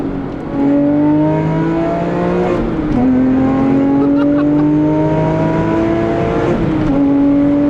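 A Porsche 996 Carrera with a 4.1-litre, 420 hp engine and manual gearbox drones loudly on a Black Forest road, its revs rising and falling with two sharp blips on downshifts.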